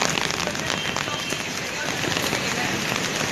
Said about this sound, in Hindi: यहाँ हैदराबाद में बहुत तेज़ बारिश हो रही है